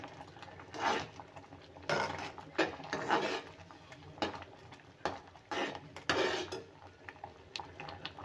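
A spoon stirs red chili powder into Andhra-style tomato toor dal in a metal pot: quiet, close clinks and scrapes in irregular bursts with short pauses between strokes.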